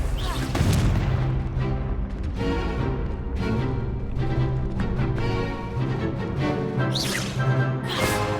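A Confringo fire spell in Hogwarts Legacy erupts in a loud, booming blast, set against dense game music and effects with a voice shouting over it.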